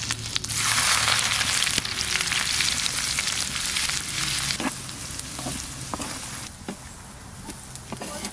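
Loud, bright sizzle as onions hit a hot pan of oil with bay leaf, whole garam masala and cumin, the hiss easing over a few seconds while a utensil scrapes and taps now and then.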